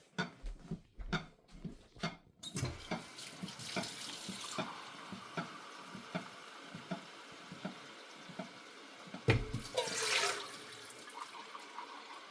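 Water from a kitchen tap splashes into a rice cooker pot holding rice. It starts as short, separate spurts, then settles into a steady running flow, with a louder gush near the end.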